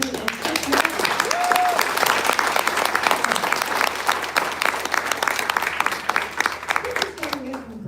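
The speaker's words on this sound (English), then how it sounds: "a big round of applause for the two amazing human beings, Brett Johnson and Chris Miller." A crowd at Eagle Fest gives Brett Johnson and Chris Miller a big round of steady, dense applause that carries on throughout, with a voice briefly audible beneath the clapping.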